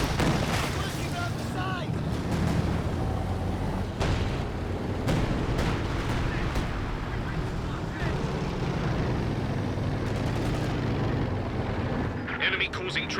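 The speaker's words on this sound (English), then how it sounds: "Drops the artillery on the Raketen." Artillery barrage in the strategy game Company of Heroes 2, falling on a Raketen anti-tank gun during a 2v2 match. Several sharp, loud impacts strike over dense battle noise and rumble.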